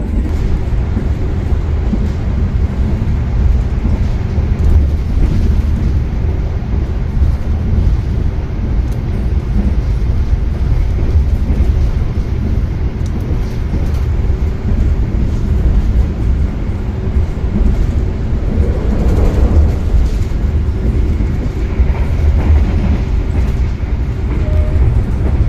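Taksaka luxury-class passenger train running on rails, a steady low rumble and rolling drone that holds evenly at moderate loudness from start to finish, with no talk over it.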